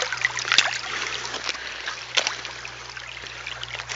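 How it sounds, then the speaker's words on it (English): Water trickling and rushing steadily in a shallow stream channel at a gold prospecting site, close and moderately quiet, with occasional small splashes and no speech. "Because the flow of the water is doing the job for me"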